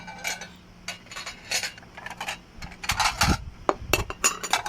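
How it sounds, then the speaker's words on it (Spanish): Household plates and dishes clinking in a string of sharp, irregular taps and clatters, close and fairly quiet, with no voices. "Son unos platos."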